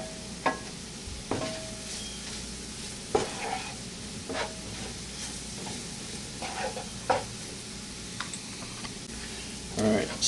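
Flour roux browns in a pan for sausage gravy, a soft frying hiss broken by repeated scraping stirs of a utensil against the pan, close and fairly quiet, with occasional brief clinks.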